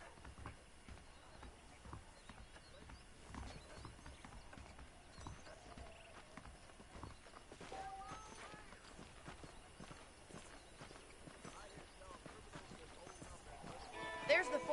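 Horse hooves clip-clop in Red Dead Redemption, a quiet, steady rhythm of hoofbeats running throughout, with voices talking faintly over them and a slight swell near the end.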